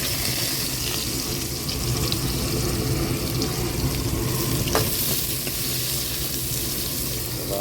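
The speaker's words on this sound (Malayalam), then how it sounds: "പിന്നെ നമ്മൾ സവാള ഇടുന്നു." Sliced onions go into hot oil with ginger and garlic as the base of a Kerala-style black pomfret fish curry, giving a continuous dense sizzle and crackle, close and steady throughout, with no voices.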